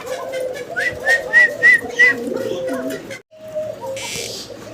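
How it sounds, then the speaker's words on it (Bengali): Pigeons coo at a pigeon market where colored and local gola birds are sold, with several close, rhythmic coos and whistly calls early on, then a brief pause, while voices talk nearby. "এখানে বেশ কিছু কবুতর আপনারা দেখতে পারতেছেন"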